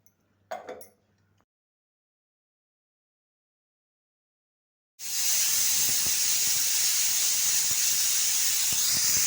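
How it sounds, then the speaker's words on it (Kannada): Steam hisses loudly and steadily from a pressure cooker releasing its whistle while mutton sambar cooks, bursting in suddenly after a brief faint noise and near silence, then holding at full strength. "ಅದಕ್ಕೆ ಒಂದೇ ಒಂದು ವಿಷಲ್ ಹೊಡ್ಸ್ಕೊತಾ ಇದ್ದೀನಿ"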